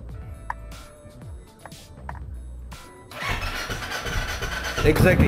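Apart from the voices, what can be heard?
motorcycle engine starting with self-start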